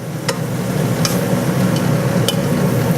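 A hot pan of bacon and Brussels sprouts hisses loudly after liquid is added, a constant close sizzle broken by a few sharp metallic scrapes and clinks.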